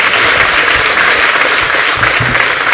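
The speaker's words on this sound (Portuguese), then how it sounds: "Receba o servo do Senhor aplaudindo ao Senhor Jesus." Church congregation applauding steadily and loudly throughout, dense continuous clapping filling the space without a break.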